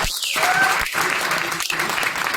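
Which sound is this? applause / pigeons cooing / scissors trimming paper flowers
applause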